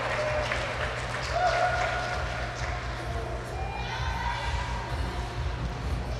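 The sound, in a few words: crowd applauding at hockey game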